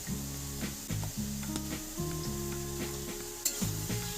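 Five slit green chillies with dry chilli powder and Kashmiri chilli powder sizzle in hot oil for a Bengali fish oil chorchori, with a spoon repeatedly scraping and stirring the pan in steady close strokes.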